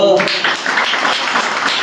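A church congregation claps during a Sunday worship service: dense, steady applause from many hands that follows a brief spoken voice and continues evenly to the end.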